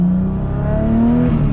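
A CD009 transmission whines inside an E85-fuelled 2JZ-powered car under load, a loud close gear whir rising in pitch over the engine's drone, with no talking.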